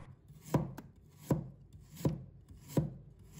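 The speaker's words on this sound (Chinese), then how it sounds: "再准备1块去皮的生姜，把它切成薄片" A knife cuts through a piece of peeled ginger on a board, four crisp, evenly spaced chops about three-quarters of a second apart, close and clear with no voices.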